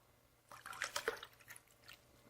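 Kangen alkaline water at pH 11.5 is poured from a container into cups, a short faint run of drips and splashy liquid sounds in a quiet room.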